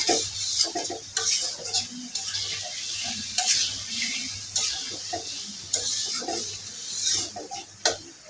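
Potatoes and taro being sautéed in a pot, with a quiet background sizzle under repeated metallic spoon scrapes and clinks against the pot at an irregular pace, close by and without talking.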